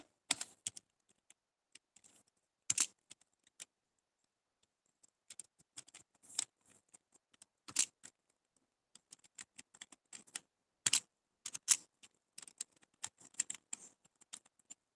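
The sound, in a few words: typing data on a computer keyboard in MS Excel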